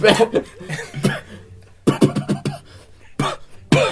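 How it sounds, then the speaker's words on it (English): Several harsh coughs come in bursts with short gaps between them, close and loud, like a fit of coughing. "Come out with it! What's he saying? Coughing! Wait, coughing! he's choking."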